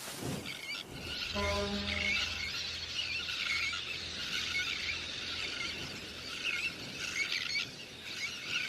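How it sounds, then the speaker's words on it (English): Little terns call in a crowded breeding colony near a city, a dense, continuous chorus of shrill squealing cries heard at moderate distance, with a brief low drone early on. "Little terns will quickly fly back to their eggs and can miraculously find their own nest scrapes in the crowded colony."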